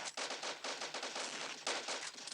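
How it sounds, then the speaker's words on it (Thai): Automatic gunfire from the shooter game Crisis Action, in a wolf-hunting bio mode, rattles in dense rapid bursts throughout, steady and close with no pauses. "ยิงมัน"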